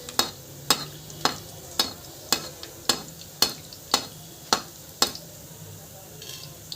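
Hot oil for frying rasgulla being stirred, with about a dozen sharp, evenly spaced taps of a spoon against the pan over a soft sizzle.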